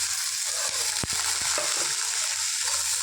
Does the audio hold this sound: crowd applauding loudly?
no